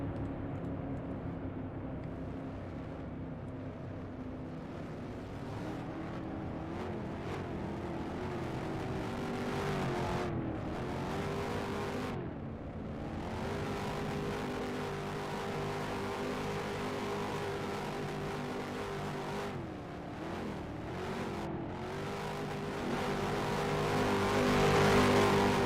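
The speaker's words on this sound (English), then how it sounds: "I'll let Jack Pro and Perf both do donuts." Race cars spin donuts after a Superstar main event, engines holding high revs in long droning surges that dip and climb again as they circle, loud and continuous with the sound swelling toward the end.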